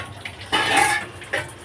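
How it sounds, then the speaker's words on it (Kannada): Pots, pans and utensils clink and clatter as dishes are washed by hand, with two quick metallic bursts heard close by and no talking. "ಪಾತ್ರೆ ಯಾಕೆ ತೊಳಿತಿದ್ಯಾ?"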